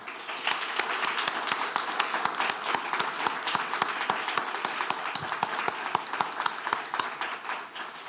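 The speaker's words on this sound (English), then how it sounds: "Please join me in a round of applause for all of our speakers today" Conference audience applauding its speakers, a steady stream of many hands clapping with distinct sharp claps throughout, moderately near and sustained without talk.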